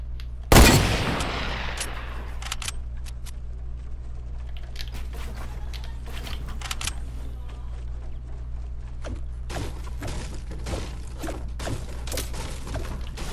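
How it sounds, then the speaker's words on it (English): Video game gunfire in an online shooter match: one loud close shot at the start, then scattered sharp shots and bursts of varying distance continue throughout over a steady background hum. "Who is shooting?"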